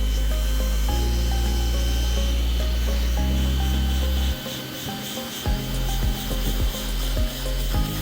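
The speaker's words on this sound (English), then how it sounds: "So we're gonna weld it. So now we're melting the two together." A handheld hot-air welding machine runs with a steady mechanical hum while melting and joining commercial roofing membrane seams, followed by rough rubbing and rolling scrapes as the roller presses the softened seam.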